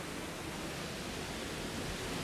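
Water rushing steadily down a waterfall, a dense, even roar of falling water that holds constant throughout with no talk over it.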